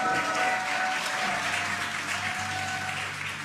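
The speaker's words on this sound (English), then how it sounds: "You can hear the crowd here." Crowd noise from spectators watching the Dragon Freedom capsule descend under its parachutes, a broad cheering and clapping roar with a faint steady tone running underneath.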